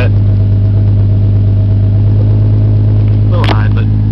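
A Toyota Supra with a Pro-EFI NA-T engine idles after a cold start, a loud, steady low rumble very close by, with a brief higher rasp near the end.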